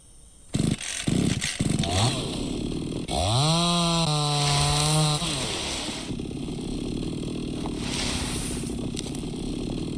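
A chainsaw in the Mist Survival game starts with a few sputtering pulls, then revs up and holds a loud, steady buzzing whine before settling into a rough idle, close by and with no talking.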